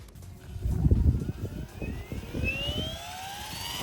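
A Goosky RS6 RC helicopter spooling up, its motor whine climbing steadily in pitch over a few seconds beneath a rumbling, gusty low hum, close and fairly quiet.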